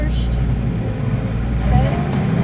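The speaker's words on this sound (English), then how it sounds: "let's put PTO in gear, rev it up some" A farm tractor engine revs steadily with the PTO engaged while baling hay, a loud, continuous low rumble close to the listener that rises slightly near the end.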